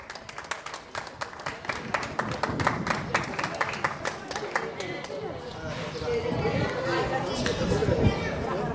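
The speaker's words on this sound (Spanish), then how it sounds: "Un aplauso, por favor." A crowd claps in sharp, fairly quick bursts at the Chupinazo opening of a town fiesta in Santacara, with lively chatter underneath. The clapping thins after about five seconds while the crowd noise and voices swell and carry on.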